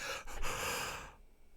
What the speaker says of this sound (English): Did he just yawn?